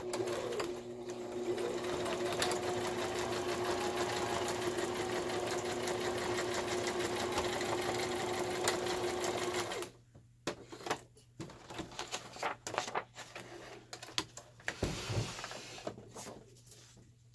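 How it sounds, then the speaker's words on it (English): A sewing machine stitching down a folded paper page in a handmade ring binder journal, a steady rapid mechanical whir for about ten seconds, then stopping into scattered clicks and handling knocks. "I just folded it over the edge of my page, and now I'm just going to sew"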